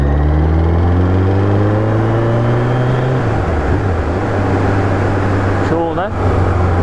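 A Suzuki Hayabusa motorcycle fitted with a Coyote exhaust sounds loud and close; its engine note drops from a higher whine into a deep rumble, with a brief blip near the end.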